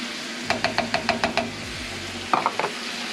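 Shallots are tipped into pork frying in a pan and stirred: a quick run of sharp, evenly spaced utensil clicks and scrapes, then a second short burst, over a low steady sizzle with no talking.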